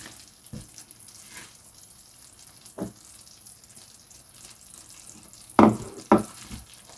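A sesame and jaggery ladoo mixture bubbles and sizzles in a pot on the stove, a steady low simmer broken by a few louder spoon scrapes and stirs, with no one talking.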